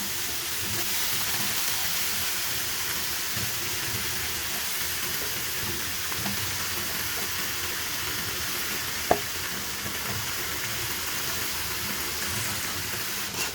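Flat beans and potatoes, cut and washed, sizzle steadily in hot oil for a sim alu bhaji, a dense continuous frying hiss close by with a single faint tap midway.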